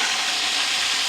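Pieces of meat rubbed with salt and turmeric fry in hot coconut oil, giving a loud, continuous close-up sizzle with a dense, even crackle throughout.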